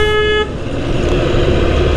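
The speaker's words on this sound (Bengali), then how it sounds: "আচ্ছা, হর্ন বাজাচ্ছি" A car horn gives one clear sustained toot near the start, then cuts off, leaving engine and road noise.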